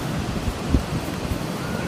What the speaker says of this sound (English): Nice, fun waves today.